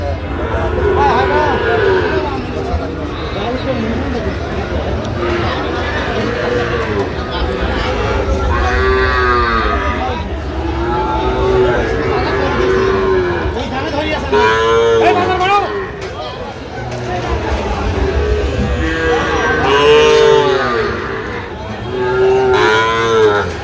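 Sahiwal bull calves and cattle moo loudly and repeatedly at a busy livestock market in Khulna-Bagerhat, the long lowing calls rising over a constant murmur of crowd voices.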